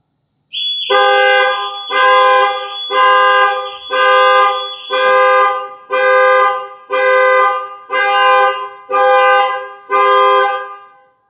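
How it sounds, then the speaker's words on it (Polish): A loud factory-fitted car alarm wails in repeated rising bursts, about nine cycles, with the car's blaring horn tone layered over the siren; no talking. "alarm został wywołany i jak słyszeliście, zarówno wyła syrena, ta, która była wcześniej, i teraz dodatkowo klakson"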